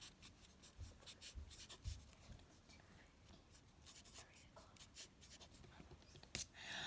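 Pen or pencil strokes scratch across paper in quick, irregular bursts while math notes are written down, close and quiet, with small taps between strokes.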